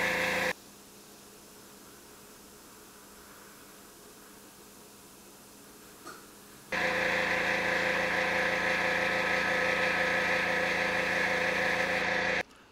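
An airbrush air compressor runs during scale model painting: a quieter hum at first, then a loud steady droning whir kicks in partway through and continues until it cuts off at the end.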